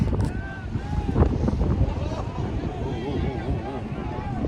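Yacht cruising on the sea near Coral Island, Phuket: steady rushing wind and water noise with engine rumble throughout, and a voice talking over it.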